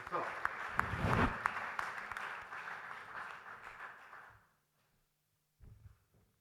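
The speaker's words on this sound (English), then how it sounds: "Big round of applause and we hand it over to sir." Audience applause at the inaugural session of a media and entertainment industry conference, a steady dense burst of clapping lasting about four seconds, then fading into silence before a brief noise near the end.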